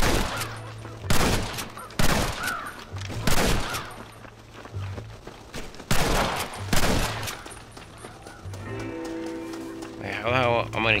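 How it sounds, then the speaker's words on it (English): Gunfire rings out in Red Dead Redemption as a player shoots crows on a farm: a string of loud, evenly spaced rifle shots with echoing tails, followed by a short burst of other game sounds at the end. "do I just shoot the fucking crows?"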